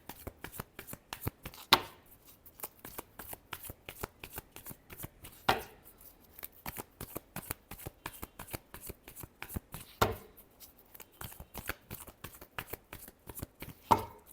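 Tarot cards are shuffled by hand in a rapid, continuous run of crisp riffling clicks, with a few louder bursts standing out at intervals.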